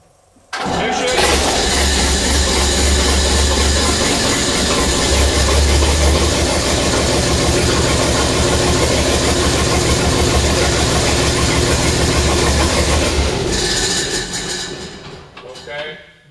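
Hetzer Jagdpanzer 38 tank engine cranking and catching, then idling with a loud, heavy, rumbling drone close by for over ten seconds before shutting down and fading out.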